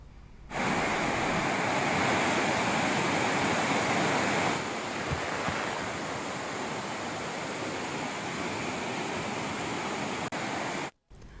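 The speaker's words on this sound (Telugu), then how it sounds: "దీంతో వెంకట్రావుపేట పోర్ట్స్ బ్రిడ్జ్ వద్ద పెన్గంగకు వరద పోటెత్తుతోంది." The flooded Penganga river rushes past the Venkatraopet bridge after heavy rain, a loud, continuous roar of churning water that holds steady throughout with no voices.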